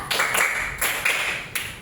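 Five sharp hand claps ring out in an uneven rhythm during a clap-counting exercise, each crack trailing off briefly in a reverberant room, with no talking.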